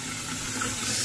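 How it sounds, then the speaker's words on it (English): Cold tap water runs steadily into a cooking pot in a kitchen sink, a continuous close, even rushing stream with no talk. "Fill it with cold water."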